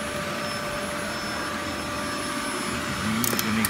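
Steady whirring drone of a Hoover Z700 bagless upright vacuum cleaner running continuously at close range, with a faint high whine and a brief squeak near the end.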